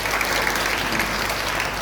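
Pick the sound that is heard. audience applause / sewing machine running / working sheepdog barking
audience applause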